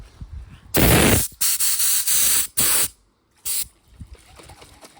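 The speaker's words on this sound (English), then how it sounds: "I'm about to hit it with a little bit of clear coat" Clear coat is sprayed from a spray gun onto the car panels of an AU Fairlane front end. The bursts are loud, close and hissing, some long and some short, with pauses between them and one last short burst after a gap.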